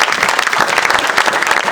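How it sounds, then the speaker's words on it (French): A church congregation claps loudly in a dense, sustained wave of applause that fills the room with no pause. "Acclame très fort."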